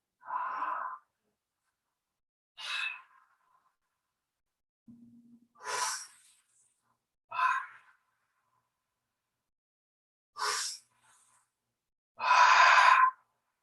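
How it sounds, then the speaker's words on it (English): Forceful breaths drawn and pushed out through the mouth during a guided breathwork exercise, coming as six separate airy rushes with short pauses between, close and fairly loud, the final exhale the longest and strongest. "So you will now begin through your mouth, breathing with intensity,"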